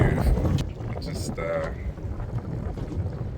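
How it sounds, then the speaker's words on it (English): Wind gusting outdoors on the water during a fishing trip in New Zealand, a rough low rumble of wind buffeting the microphone, with brief clatters and voices briefly in the background. "It's quite windy."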